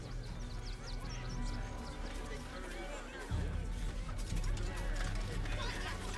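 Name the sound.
geese honking in the video game Baldur's Gate 3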